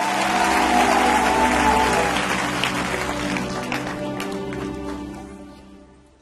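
A church congregation applauding loudly at first, the clapping gradually thinning and fading over several seconds, with a few voices mixed in.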